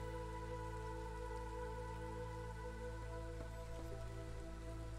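Steady drizzle in the video game Against the Storm: a constant soft hiss of light rain with faint patters, alongside a low ambient hum and sustained tones, with no talking.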